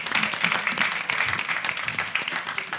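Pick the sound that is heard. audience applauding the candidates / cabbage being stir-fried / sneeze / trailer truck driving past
audience applauding the candidates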